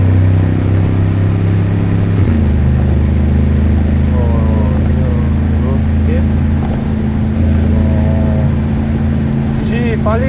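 A 2022 Mercedes-AMG G63 drives with a loud, deep, steady exhaust drone, close and continuous, while a voice talks faintly over it.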